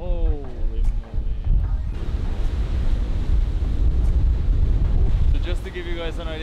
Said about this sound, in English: So just to give you guys an idea how windy it is right now.